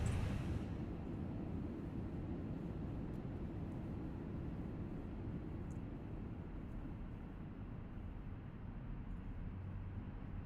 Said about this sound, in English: Engine 1 fired up.